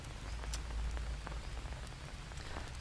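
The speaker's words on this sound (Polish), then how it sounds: "Wiem, pada deszcz." Steady rain falls continuously in Green Hell, with scattered close drop taps over a low rumble, no voices.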